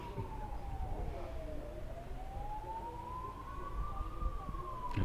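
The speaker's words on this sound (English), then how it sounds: "I don't know if you can hear the sirens in the distance" A wailing siren rises and falls steadily in the distance over a constant low background rumble, with no voices.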